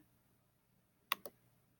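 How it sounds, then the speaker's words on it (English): Two quick, sharp keystrokes on a computer keyboard entering a capital letter, close and crisp against a quiet background, the second slightly softer than the first. "we're going to type in a capital R"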